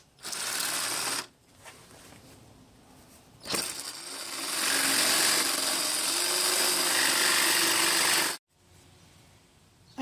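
Power saw fitted with a smaller blade cutting material for a studio monitor and amplifier case: a sustained whining buzz for several seconds between shorter bursts and gaps, close and fairly loud.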